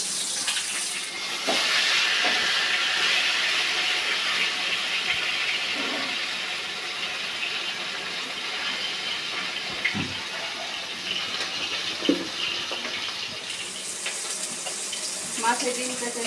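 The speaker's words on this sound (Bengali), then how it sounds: "এখন একটু পানি দিয়ে দেব।" Water is poured into a hot cooking pan with a loud rushing splash and hiss at first, settling into a softer steady bubbling sizzle with a few small clinks, close by and without talk.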